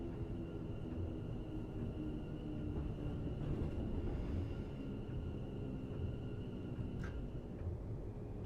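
A London Overground train in a rail simulator game brakes on slippery, snowy rails, producing a low, steady rumble with a faint sustained whine above it and a brief higher squeal near the end.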